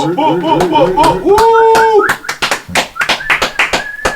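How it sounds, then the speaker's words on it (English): A few sharp claps and taps ring out between voices on a podcast recording, sparse rather than a full crowd's applause. "Can I get a round of applause?"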